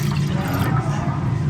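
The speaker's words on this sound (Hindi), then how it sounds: "2 गिलास पानी डाल रहे हैं" Two glasses of water are poured into a pot on a stove for kheer, giving a steady, close splashing rush that fills the short stretch.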